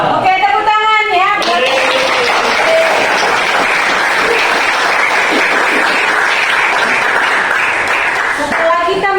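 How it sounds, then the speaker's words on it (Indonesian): A classroom of students claps together during a biology lesson, dense sustained applause filling most of the stretch, with a teacher's voice heard briefly at the start and end. "Oke, tepuk tangan ya."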